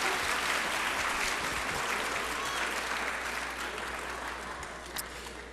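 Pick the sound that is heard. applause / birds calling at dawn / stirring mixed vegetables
applause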